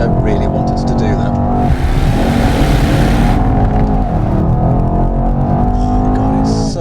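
A Mercedes-AMG E63 S drifts with its tyres smoking, the engine roaring loud and close under steady broadband tyre noise, with a harsh hissing burst in the middle and a voice talking over it.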